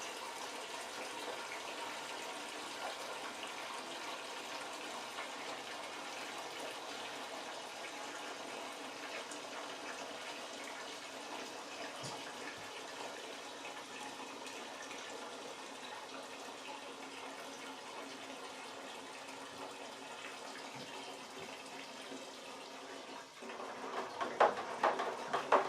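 Cold water runs steadily into a hard seltzer fermenter being filled to the 5.5-gallon mark, a constant hissing gush with a brief splashing burst near the end.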